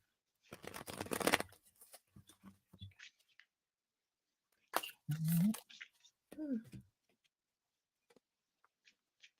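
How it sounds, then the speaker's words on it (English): A brief burst of card shuffling during a card reading, a dense fluttering riffle lasting about a second, followed by people talking and a few soft taps. "I love the sound of shuffling cards."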